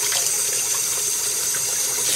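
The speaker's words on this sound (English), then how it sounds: "Pour the water." Water poured from a container over a baby's hands during washing, a steady close splashing gush for a couple of seconds with no talk.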